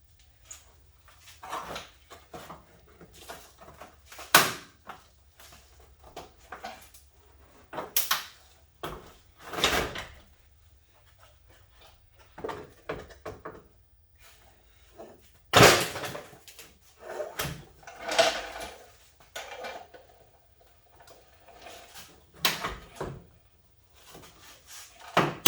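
A fender flare is worked loose and pulled off a Jeep JK, giving scattered plastic creaks, knocks and clunks of varying loudness, with quiet pauses between them.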